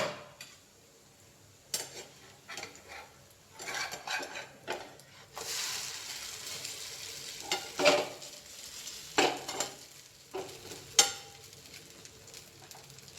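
Rava handvo cooking in a pan after being flipped, with a soft background sizzle broken by irregular scrapes and clinks of a spatula against the pan.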